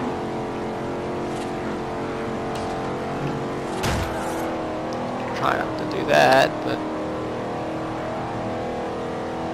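A car driven at high speed in Forza Horizon, with a steady engine drone throughout and a few brief louder bursts near the end, under a voice talking.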